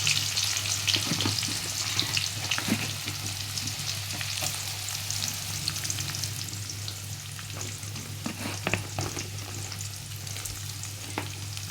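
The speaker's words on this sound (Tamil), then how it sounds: "இப்போ நான் வந்து கட் பண்ணி வச்ச நீல வெங்காயத்தை போடுறேன்." Lengthwise-cut onions fry in a pan with a steady close sizzle, punctuated by scraping, clicking stirs of a spoon throughout and no voices.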